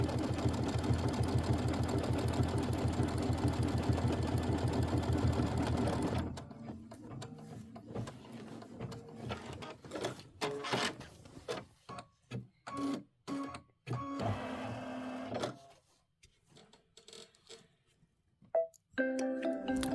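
An embroidery machine stitches out a decorative hot pad, first in a loud continuous whir, then in a run of sharp, uneven mechanical clicks and short bursts before stopping.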